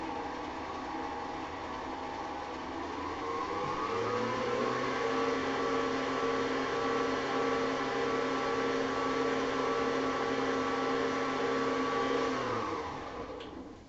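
An electric mixer whirs as it blends honey with oil for gluten-free oatmeal raisin cookie dough, a steady motor hum that rises in pitch as it speeds up, holds, then winds down at the end.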